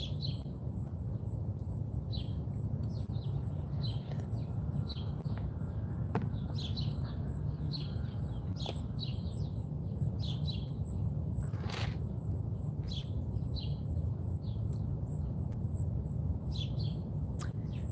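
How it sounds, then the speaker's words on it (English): Sparrows chirp in a backyard garden, giving a steady scatter of short, fairly faint tweets and squawks over a low outdoor rumble, with no one talking. "Otherwise, we have a bunch of sparrows."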